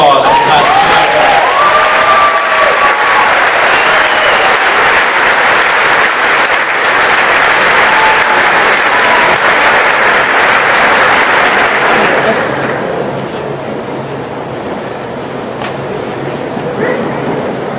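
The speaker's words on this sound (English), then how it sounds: "Let's have a round of applause for the class of 2011." An audience at a 2011 high school graduation ceremony applauds in a long, loud wash of clapping for the graduating class, with some voices mixed in before the clapping thins out and quiets near the end.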